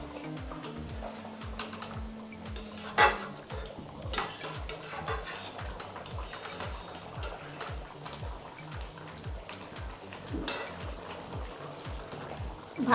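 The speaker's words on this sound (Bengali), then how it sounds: "নেড়ে দেব।" A spatula stirs Bengali katla fish korma in a pan, giving scattered light clinks and scrapes against the metal over a quiet, regular ticking in the background.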